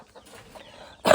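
A hen gives a short, close cluck at the end after a quiet stretch with faint background noise, loud and abrupt in a hot barn or coop.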